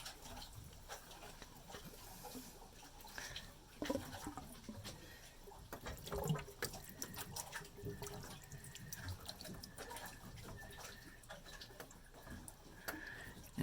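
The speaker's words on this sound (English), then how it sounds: "So water flows out of it." Water runs out of a hose on a vehicle's oil cooler line as it is drained for winter, a steady soft trickle and splash with faint drips, fairly quiet and continuous with a few brief knocks.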